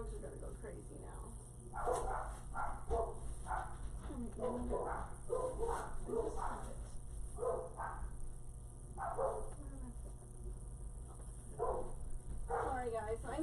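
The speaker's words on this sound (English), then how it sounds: "dogs are gonna go crazy now." Dogs barking repeatedly and excitedly at close range, with yips and whimpers mixed in across the whole stretch, over a low steady hum.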